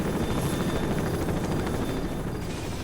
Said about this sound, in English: A military chopper is coming to blow you to pieces.